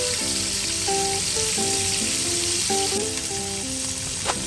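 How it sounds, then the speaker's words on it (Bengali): Fish frying in a pan until reddish-brown gives a steady, close sizzle throughout, with a faint melodic tone pattern running underneath. "আজকের এই মাছগুলোকে আমি একটু লাল লাল করে ভাজবো"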